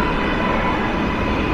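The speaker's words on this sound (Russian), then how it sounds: "Это станция метро" A subway train at the Hudson Yards metro station in Manhattan rumbles in a steady, loud, broadband roar, continuous and close with no pauses.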